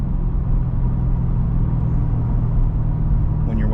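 Low, steady engine rumble from a Cadillac CT5-V Blackwing 120th Anniversary Edition held at full throttle through a no-lift shift, heard from inside the car as a continuous loud drone.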